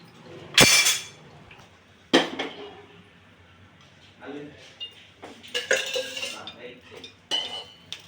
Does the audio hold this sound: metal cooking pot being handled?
yes